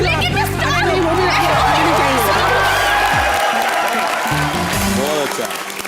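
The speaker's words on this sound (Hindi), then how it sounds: "जोरदार तालियां मुबीन और सुरभि के लिए" A studio audience at a comedy show bursts into loud, dense applause with some cheering, sustained for several seconds while a host's voice talks over it.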